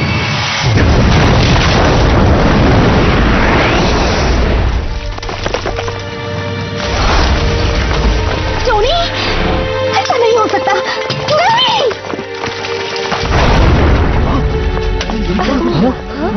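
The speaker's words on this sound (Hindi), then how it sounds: "5 सेकंड में जहाज में विस्फोट होने वाला है" A loud, rumbling spaceship explosion from an animated Iron Man series booms and roars at close range after a reactor core bursts, with crackling debris, then settles before another heavy blast surges near the end; voices sound faintly underneath.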